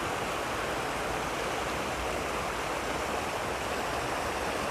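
A river used for tubing, running beside rice fields, gives a steady, broadband rush of flowing water that stays even and unbroken throughout, with no voices.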